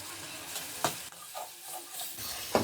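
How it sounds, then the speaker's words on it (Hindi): Tomatoes sizzle steadily in a hot pan while cooking chicken karahi, with occasional scraping knocks from stirring. "टमाटर डालने के बाद हम 2 से 3 मिनट भून लेंगे।"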